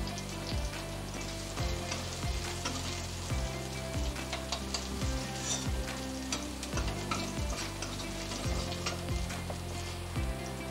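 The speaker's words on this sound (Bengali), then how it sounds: "এই তেলের মধ্যেই আমি একটা শুকনো লঙ্কা ফোড়ন দিয়ে দেব আর 4 কোয়া রসুন থেতু করে রেখেছিলাম দিয়ে দিলাম" One dried red chilli and four cloves of crushed garlic hit leftover hot oil in a pan, a steady loud sizzle with rhythmic stirring scrapes repeating about every second and a half, no talk.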